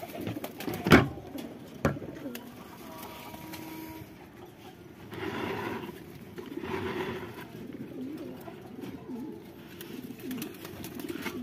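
Pigeons in a loft of about seventy to eighty birds coo softly in low, repeating phrases, with a couple of sharp clacks early on and a quiet indoor background.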